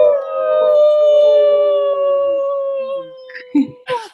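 A group of women howling together as part of a new moon gathering, a long sustained chorus of voices imitating a wolf howl that holds steady before trailing off into a few short yips and breaths.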